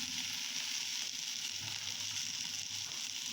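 Salted diced potatoes frying in a hot pan with an egg dish, giving a continuous, even hiss of sizzling oil, close and steady, with faint low clatter beneath and no voices.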